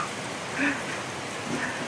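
Steady, dense hiss of heavy typhoon rainfall pouring down amid flooding, with a faint voice briefly rising over it.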